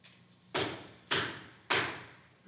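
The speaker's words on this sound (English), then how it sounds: "Who knocks?" Three loud, sharp knocks on a door at an organization's induction ceremony at Cherry Hill West in 1992, evenly spaced about half a second apart, each with a short fading ring and no voices.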